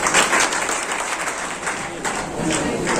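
An audience at an Urdu poetry gathering in Bhiwandi applauds, sustained full clapping with some crowd noise, swelling and easing slightly, with a voice partly heard underneath.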